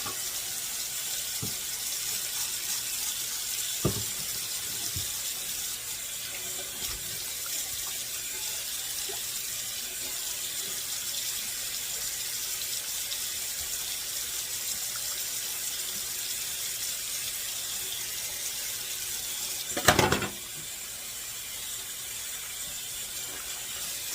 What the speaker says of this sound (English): we're going to go ahead and clean out the sink